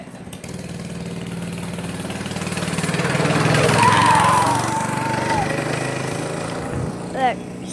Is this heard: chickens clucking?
no